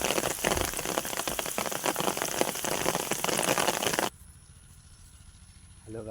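Rain pattering steadily and fairly close, a dense crackling hiss that cuts off abruptly partway through, leaving quiet background until a brief voice near the end.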